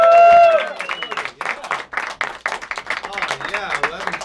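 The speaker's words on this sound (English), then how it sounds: "give a big round of applause for David Gabbay." An audience at a magic show gives a short burst of applause as a host talks over and after it with a microphone, the clapping fading under his speech.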